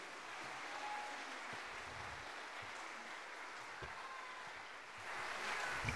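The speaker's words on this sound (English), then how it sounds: "One more round of applause, Mr. Michael Sherrod, ladies and gentlemen." Distant, faint audience applause at a school mariachi concert, a soft wash of clapping blurred into a hiss-like roar, swelling slightly near the end.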